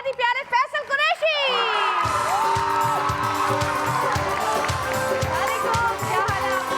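A television studio audience cheers and applauds loudly for a host's entrance, a sustained roar of clapping and whoops that follows a brief spoken announcement.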